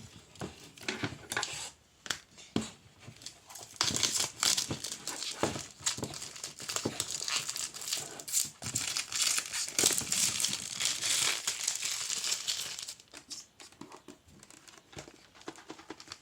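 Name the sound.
tearing open plastic packaging of a Spider-Man figure box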